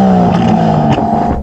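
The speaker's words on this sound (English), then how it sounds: "can you rev up that Aston?" An Aston Martin DBS V12 engine revs loud and close in a single sustained blare, holding a steady high pitch before easing slightly at the end, with no voices.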